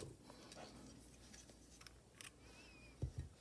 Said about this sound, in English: Here on this side, I'm going to cut my yarn.